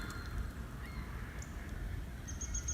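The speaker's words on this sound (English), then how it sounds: "There's birds. Definitely birds." Birds call in a played-back video clip, with thin repeated chirps and a short whistled call over a steady low background hum, faint and somewhat distant.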